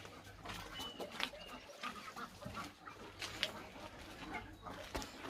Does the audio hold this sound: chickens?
yes